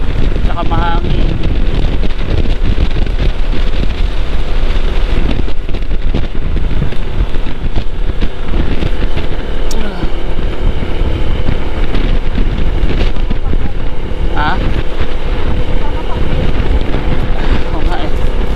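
Strong wind roars and buffets the microphone without letup during a motorcycle ride, a dense rumble over an engine-like drone, with faint voices underneath.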